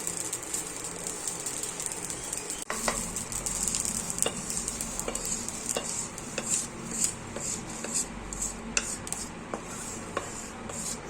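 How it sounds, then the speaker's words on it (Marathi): Grated coconut being stir-fried in a hot kadai until lightly browned, a steady soft sizzle with repeated scraping strokes and occasional metal clinks of the spatula against the pan. "असा खिस खोबऱ्याचा थोडंसं ब्राऊन होईपर्यंत परतायचं"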